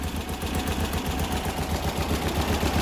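An 1800cc engine with an exhaust leak idles at about 600 RPM, a steady, loud, rough rumble with a pulsing low throb and broadband hiss, close to the listener and with no talking.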